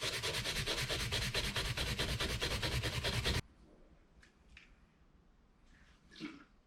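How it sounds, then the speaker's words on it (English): A small scrub brush scours a Motorguide trolling motor in fast, loud rhythmic strokes, then stops abruptly, leaving only faint scattered handling noises. "A little scrub brush for getting in the nooks and the crannies."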